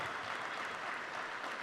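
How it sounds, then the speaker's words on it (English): Audience applause at the Global Climate Action Summit, a continuous even wash of many hands clapping, fairly distant and steady throughout with no voices over it. "Yes, you can applaud."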